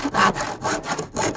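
A hand saw with a very long blade cuts through wood in quick, rhythmic back-and-forth strokes, about five rasping passes, close and loud with no talking.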